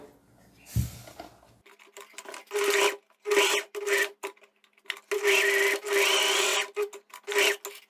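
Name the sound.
sewing machine hemming knit fabric edges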